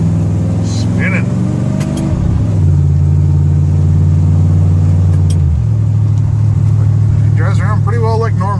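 A car fitted with a TCI 3000 rpm stall converter drives on a wet road in the rain, its engine droning loudly and rising in pitch as it revs. A voice talks over the engine in places.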